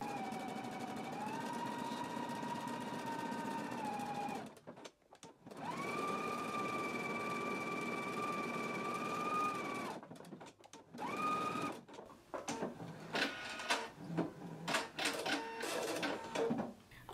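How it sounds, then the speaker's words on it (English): A sewing machine stitches a buttonhole in long steady whirring runs broken by short pauses, then shifts into shorter, choppy bursts of stitching near the end, with no talking. "Now that I have it stabilized, I'm going to go ahead and create my buttonhole."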